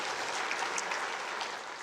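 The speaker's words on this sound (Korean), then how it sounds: "우리 하나님께 영광의 박수 올려드리겠습니다" Brief, steady applause from a church congregation in worship, a soft wash of many clapping hands at moderate distance, tapering slightly at the end with no talk.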